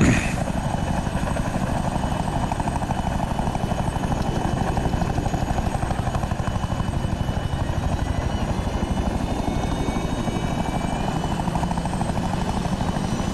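A model helicopter drones continuously with a steady rotor buzz and engine whine, close and loud, with no voices.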